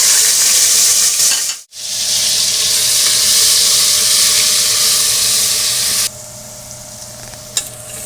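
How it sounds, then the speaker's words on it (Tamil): Ginger and garlic fry in hot oil with a loud, close sizzle and crackle, cut by one sudden brief dropout, then settling quieter for the last couple of seconds, with no voices. "எண்ணெய் ஊற்றிக்கிறேன். தாளிச்சுக்கலாம். இஞ்சி பூண்டு போட்டுக்கிறேன்."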